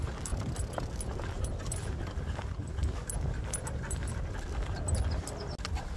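Dogs panting inside a moving car on a road trip, a faint, steady breathy rasp over low road rumble and cabin noise, with no talking.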